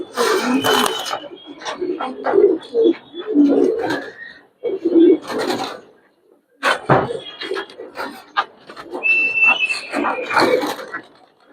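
Giribaz pigeons in a loft coo and call in close, loud bursts separated by short pauses, with muffled rustling between the calls.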